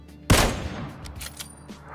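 A single loud, close Kar98k bolt-action sniper rifle shot in PUBG, a sharp crack followed by a long rolling echo that fades over the next second and a half.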